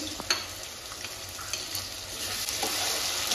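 Sliced onion with cumin paste, ginger and black pepper sizzling steadily in hot oil for Bengali chicken kosha, with a continuous close hiss and occasional scraping stirs of a spatula.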